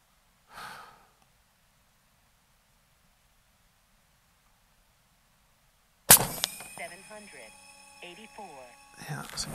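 A single sharp, loud report from an Umarex Hammer .50 caliber big bore airgun firing a 420-grain slug outdoors, following a brief breath and long quiet, then a ringing metallic tail and clattering handling noises.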